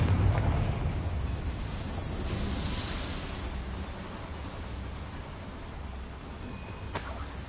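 A Confringo spell explosion in Hogwarts Legacy makes a loud, dense roar that rolls out at once and fades slowly into a hissing, crackling wash like falling debris, then a brief sharp burst near the end.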